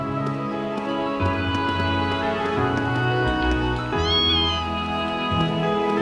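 A small kitten meows in the video game Trails of Cold Steel, a brief rising mew near the four-second mark over steady background game music with its sustained tones.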